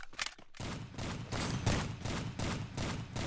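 Rapid automatic FAMAS rifle fire in a video game, a loud continuous burst of closely spaced shots after a brief opening pop, sustained without a break.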